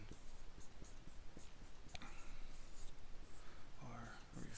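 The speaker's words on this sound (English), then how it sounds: "so I'll go ahead and write both of those in" Someone writes by hand on a board or paper, with faint scratchy strokes in short repeated bursts, close but quiet under a noisy background. Brief speech comes near the end.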